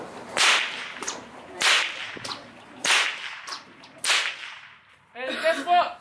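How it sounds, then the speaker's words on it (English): Four sharp stockwhip cracks ring out in an uneven rhythm while moving cattle on an Australian sheep station, each a loud snap with a brief tail, followed by a short burst of something rougher at the end. "cracking the whip."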